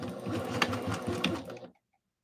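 A sewing machine runs steadily up close while stitching a tutu with a longer stitch length, whirring without a break before stopping abruptly into silence.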